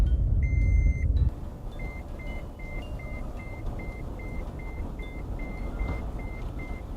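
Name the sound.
car seatbelt warning beeping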